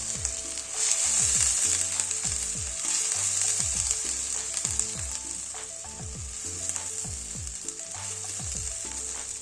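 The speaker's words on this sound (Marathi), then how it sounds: "आता असा मसाला छान परतून घ्यायचा, म्हणजे तेल सुटेपर्यंत।" Spice masala fries in hot oil while being stirred for patvadi rassa, a loud continuous hiss over a rhythmic, droning mechanical whir that stays steady throughout.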